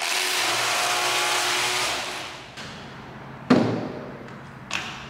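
Battery-powered Ryobi 18V ONE+ string trimmer whirring steadily at high speed, a sustained buzzing motor that winds down after a couple of seconds, followed by a few sharp thumps and clatters.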